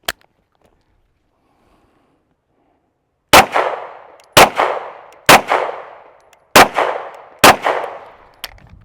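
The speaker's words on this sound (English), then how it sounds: "I'll show you why I tell you to always shoot multiple shots" Gunshots are fired at a target while testing an Olight Osight optic, five loud sharp reports at roughly one-second intervals with ringing tails, followed by a faint shot at the end after a long silent stretch.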